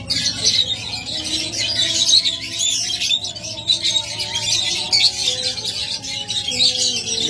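A pair of double factor budgerigars chattering and chirping continuously, with busy overlapping high tweets and warbles close by, over a low background hum.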